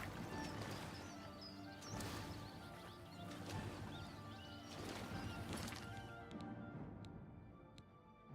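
Horse hooves clip-clop in a video game over a dense backdrop of game sound, the steps faint and mixed with scattered thuds and knocks, all fairly quiet.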